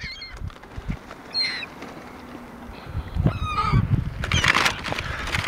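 Seagulls around a fast-food meal of chicken sandwiches and fries give several short, harsh honking calls, some nearby and some farther off, scattered over outdoor background noise.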